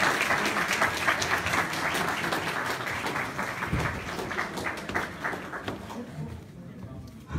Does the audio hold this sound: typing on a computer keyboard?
no